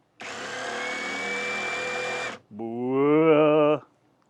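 A TapVolx 16.8-volt cordless impact driver whirs steadily at one speed, stops briefly, then spins up to its second speed with a rising, higher-pitched motor whine.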